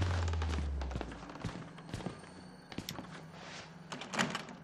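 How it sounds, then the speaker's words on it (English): Doors in the horror game Outlast rattle and thunk as they are tried without opening, several dull knocks and clunks at moderate distance with faint movement between. "Okay, these doors are not opening."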